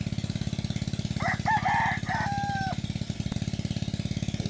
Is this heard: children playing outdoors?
no